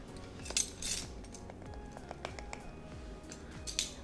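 A knife cuts unsalted butter into pats on a kitchen surface, giving soft repeated taps and clinks of the blade against a board or dish, fairly quiet and spread through the moment with no talk.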